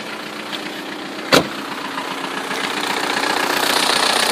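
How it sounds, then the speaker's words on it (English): A 2000 VW Jetta diesel engine, biodiesel-ready, idles steadily with a continuous, even rumble and a faint rhythmic clatter, heard close, with a single sharp knock early on. "And the motor sounds excellent."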